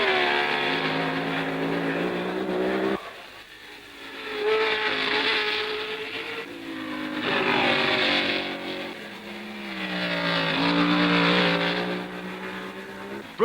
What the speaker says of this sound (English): And here he comes with a 6th Lotus 25.